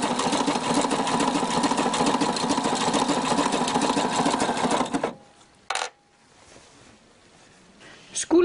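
A sewing machine stitches fabric for a girl's dress, running in a fast, even mechanical rattle for about five seconds before stopping, followed by a few brief clicks and handling sounds.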